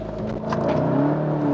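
A Volkswagen Golf 7 GTI Clubspot engine revs and accelerates hard nearby during a launch control start, its pitch climbing in a continuous roar.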